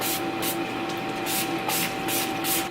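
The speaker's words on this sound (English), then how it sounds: "My favorite one at the moment is the Chill Setting Spray. I've been in love with it and I can't stop using it, so I'm just going to spritz that all over." Urban Decay Chill setting spray is misted over a made-up face in about five quick, evenly spaced spritzes, each a short close hiss over a low background hum.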